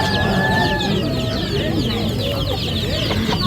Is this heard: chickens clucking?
yes